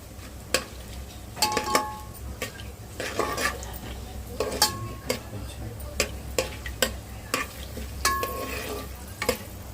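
Ingredients stirred into hot oil in a pan, a low sizzle punctuated by sharp metallic clinks of a spoon against the pan at irregular intervals, close by.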